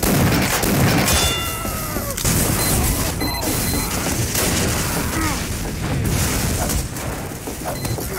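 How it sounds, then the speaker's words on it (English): Gunfire in Team Fortress 2: loud bursts of shots and booms repeat through a chaotic match, mixed with mechanical clanks and game effects. "Shotgun!"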